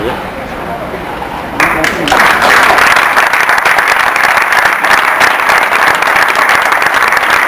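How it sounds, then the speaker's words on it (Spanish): An audience at a Brecht theatre performance during a 2011 PCM festival breaks into loud, sustained applause that fills the room, following a voice speaking over a murmuring crowd. "Un aplauso, ¿no?"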